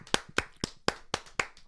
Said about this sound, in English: let's clap for Kwani